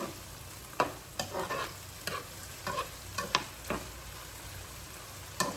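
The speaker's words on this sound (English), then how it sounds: "we're just kind of sauteing the vegetables now" Vegetables sautéing with garlic and onions in a pan for chop suey, a faint steady sizzle broken by several sharp clinks and scrapes of a utensil stirring, with no one talking.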